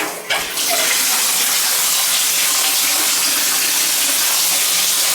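Water gushes steadily into a bathtub in a home bathroom with a leaking drain and a cracked toilet nearby, a loud, continuous rushing that fills the space after a brief knock at the start.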